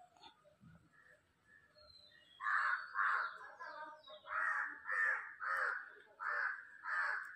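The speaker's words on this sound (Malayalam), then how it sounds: "ഇവിടെ ഒരു കാക്ക കുഞ്ഞ് വയ്യാണ്ട് കിടക്കുന്നുണ്ട്. അപ്പോൾ കുറേ കാക്കകൾ വന്നിട്ട് കരഞ്ഞുകൊണ്ടിരിക്കുക." Several crows gather around a sick crow chick, and faint calls give way to a run of about seven loud, harsh caws repeating at a steady pace nearby.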